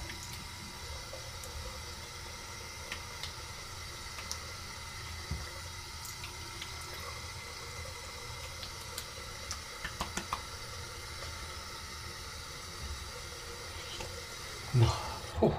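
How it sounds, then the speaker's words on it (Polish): Cold water runs from a tap into a sink during a shaving routine, a steady faint rush with occasional light clinks and taps, ending with a couple of louder knocks. "Oczywiście zimna woda."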